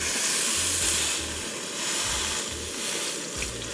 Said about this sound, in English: Our pan is smoking hot on this side. I put the steak in there and get it searing off.